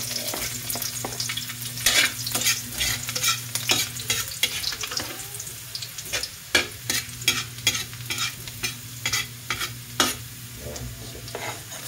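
Chopped garlic sizzles steadily in a frying pan (kawali) while being stirred, with frequent sharp scraping and clinking of the utensil against the pan over a continuous frying hiss.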